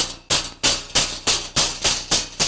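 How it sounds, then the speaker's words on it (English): A pick hammer taps sheet metal on a car door panel against a block, giving eight sharp metallic strikes in an even, fairly quick rhythm, loud and close, each with a short ringing decay. "Sometimes we bring it up with the point of the hammer, the pick hammer, with a block like this."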